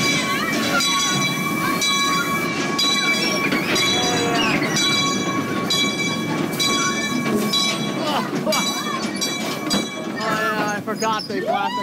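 Calico Mine Ride train running on rails at night, with loud continuous rumbling, clattering wheels and high squeals, while voices and effects from the ride sound over the top.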